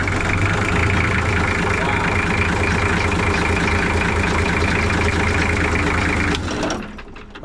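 A junk forklift engine runs at a steady, loud, rough idle close by, then cuts out abruptly near the end.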